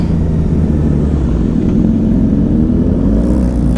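Sport motorcycle riding along a hilly mountain road, its engine note droning and rising gradually in pitch as it accelerates, with steady wind rush and no talking.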